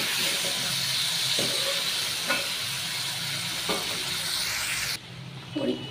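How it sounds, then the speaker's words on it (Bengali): Diced potatoes hit browned onions in a hot pan, giving a dense, steady hiss of frying with a few soft stirring knocks; the sizzle cuts out abruptly near the end, leaving brief faint clatter. "পেঁয়াজটা একটু ব্রাউন কালার হয়ে গেছে, ডুমো করে রাখা এই আলুটা দিয়ে দেবো পেঁয়াজের উপর"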